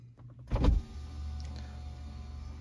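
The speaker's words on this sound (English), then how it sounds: "here the windows goes up and down" An electric window motor in a car, operated through a Hella Gutmann S20 diagnostic tool, whirs steadily after a brief louder thump near the start, running alone at moderate level as the window raises or lowers.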